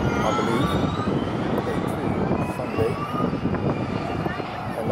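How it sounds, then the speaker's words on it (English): A plane takes off from London City Airport, heard from nearby Victoria Dock Bridge as a broad, loud roar that stays strong throughout, with indistinct voices mixed in. "that ideal place to see planes taking off"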